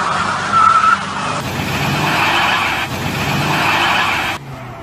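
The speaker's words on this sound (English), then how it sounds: "If you want to know what 650 nm of torques mated to a Quattro drivetrain looks like this." An Audi A8 4.2 V8 twin turbo diesel with Quattro drive launches hard, its tyres giving a sustained loud squeal over the engine roar for several seconds before cutting off abruptly.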